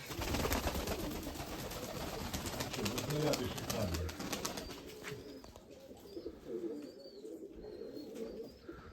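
Crested, feather-footed pigeons and their squabs coo low and close amid a loud, busy background, with people talking over the birds throughout.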